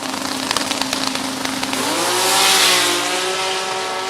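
An 1800HP six-cylinder Toyota Supra, a 7-second drag car at Drag Week, launching on a drag strip: a loud engine note that climbs sharply in pitch and roars under hard acceleration, heard alone.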